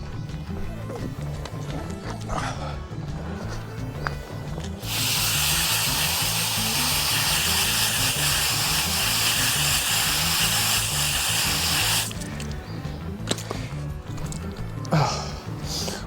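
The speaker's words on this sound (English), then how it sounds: "So I'm gonna go ahead and wash this out real quick." A steady hiss of spraying water washes out the air filter from a YardMax 22-inch RWD mower, running loud and continuous in the middle stretch, framed by quieter rhythmic background noise before and after.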